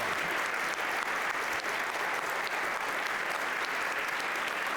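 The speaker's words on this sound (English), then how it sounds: "So if we could all give Anne a round of applause" Applause from a lecture audience fills the whole stretch, a steady, even wash of many hands clapping at moderate volume with no voices over it.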